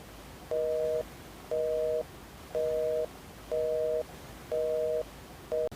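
Repeating telephone busy tone over a speakerphone, steady beeps about once per second, five full pulses and a sixth cut short, clear and alone with no talk.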